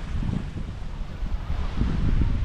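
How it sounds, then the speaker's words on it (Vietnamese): Strong seaside wind buffets a GoPro Hero 10 microphone in a steady low roar, with sea waves washing underneath and the gusts swelling louder toward the end. "đây là phía ngoài này là sóng biển biển đấy, mình đi qua tham quan cho các bạn thấy nha gió ở đây rất là mạnh đấy"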